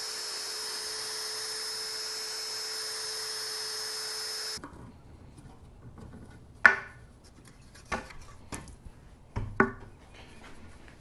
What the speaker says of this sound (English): I'm just going to drill a 1/4 inch hole